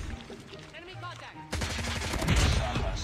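AK117 rifle from a mobile shooter game sprays a rapid, dense burst of gunfire that starts abruptly partway through and continues loudly to the end, following a quieter stretch with game sounds.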